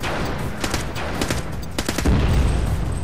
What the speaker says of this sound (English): Man, talk about explosions.